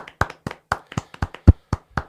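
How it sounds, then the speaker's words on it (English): Scattered clapping after a game-show style elimination round, sharp irregular claps from a few people, fairly close and loud, with no talk over them. "Can we get a round of applause?"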